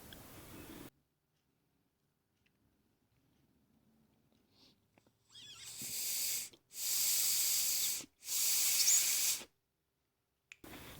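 Air blown through the carburetor of a rusty generator, starting with a brief hiss, then near silence, then three close breathy bursts of rushing air separated by short gaps.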